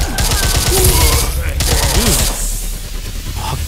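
Dense rapid gunfire fills the mobile video game Zombie Frontlines 3D as zombies are shot, loud and continuous through most of the moment, with someone talking excitedly over it.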